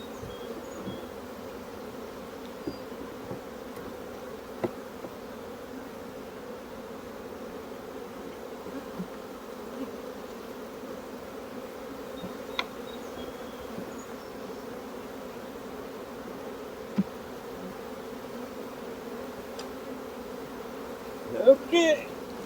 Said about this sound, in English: You ain't gotta worry about shaking all those bees out of there. A lot of them will they'll just fly around.